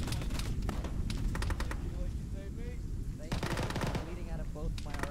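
Bursts of machine gun fire ring out in the Arma military shooter game during a ShackTac session, dense rattling volleys repeating across the scene with some gaps, while players talk over the shooting.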